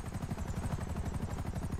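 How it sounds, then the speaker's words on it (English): A helicopter in the online game GTA V sounds as a continuous rapid rotor thump, low, loud and steady throughout, with no voices over it. "The helicopter's coming now, it's there."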